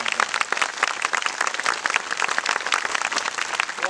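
An audience applauds event sponsors at a tribute gathering, a loud, close crackle of many hands clapping steadily and densely throughout, with no talk over it.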